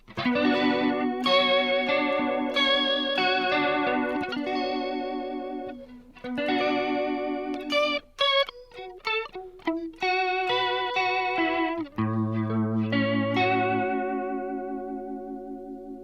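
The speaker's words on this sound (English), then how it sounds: "So here's vibrato." Electric guitar chords and single notes played through a Zoom MS-series multi-effects pedal's vibrato effect, a pulsing wobble in pitch, with short pauses between phrases.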